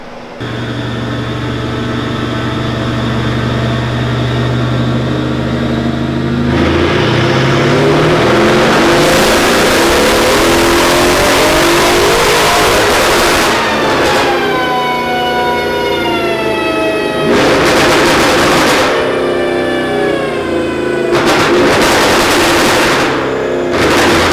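A tuned Mercedes SL63 AMG roars loudly on a dyno, its engine note climbing in pitch through sustained full-throttle pulls, dropping back, then revving again, with no voices over it.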